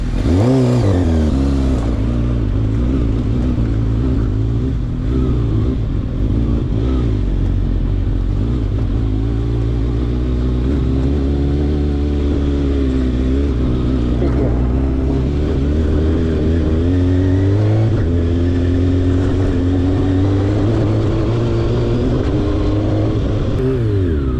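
Sport bike engine on a trip in Tusheti, held at steady high revs with throttle swells, loud and close throughout with a continuous droning tone.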